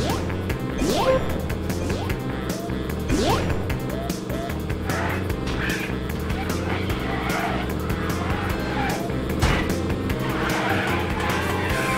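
A car in the video game Wobbly Life races along with engine drone, tire squeals and a few thuds and crashes, over steady game music.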